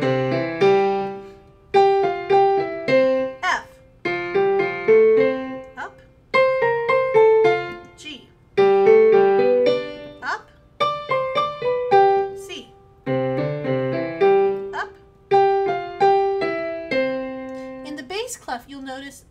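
A beginner piano exercise from a method book, played with both hands together: simple single notes in short, evenly paced phrases that stop and start, moving between low and higher registers, close and alone.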